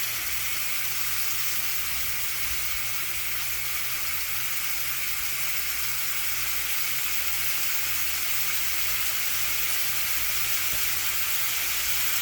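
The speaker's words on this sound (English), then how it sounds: "our pan is starting to warm up. We're just going to let that sear for a few minutes." Chicken searing in a warming pan for a crockpot marry me chicken, a steady broadband hiss and sizzle running unbroken and fairly loud with a low hum beneath.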